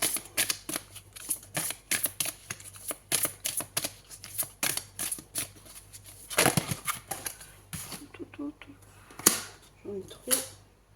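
Tarot cards being shuffled and handled, a run of crisp riffling bursts and soft slaps repeating steadily, close and fairly quiet, with faint speech in the background.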